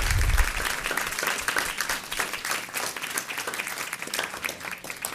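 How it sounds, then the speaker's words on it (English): An audience at a school board meeting claps in sustained applause, a dense, steady patter of many hands filling the room from start to finish. "let's give a round of applause to Miss Brenda Tomasello"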